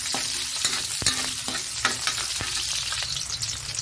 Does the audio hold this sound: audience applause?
no